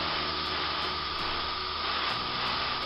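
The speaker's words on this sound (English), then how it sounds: "Serves okay for just spraying on and checking your airbrush is okay" A steady, close hiss of an airbrush spraying a first tack coat of paint onto a Corgi Juniors VW Beetle model car, continuous and even for a few seconds.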